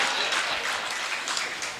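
A crowd at a mushaira, a poetry gathering in Nagina, claps with steady dense applause that holds at an even level, heard from within the audience. The sound ends with a sudden bump.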